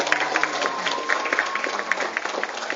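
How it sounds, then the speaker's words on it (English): Parents and children at a school honor roll assembly applaud first grade students, a moderate room-filling patter of clapping with crowd murmur and a few distinct sharp claps. "Let's give them a big round of applause."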